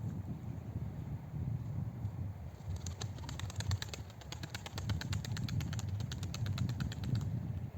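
Pigeons cooing and fluttering as they are let out of their loft, with a burst of wing flaps midway, over steady low wind rumble outdoors; no talking.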